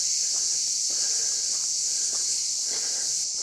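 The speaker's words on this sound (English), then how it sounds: "Listen to those cicadas." Steady, loud high-pitched cicada drone fills the air continuously at Vlycha Beach in Lindos, Rhodes, with faint soft shuffling noises underneath.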